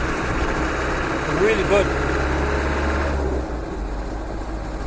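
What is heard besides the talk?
Land Rover 110 engine with a faulty turbo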